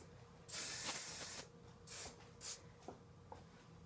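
Hairspray hissing onto hair in one long close burst, then several shorter puffs, with soft rustling between sprays.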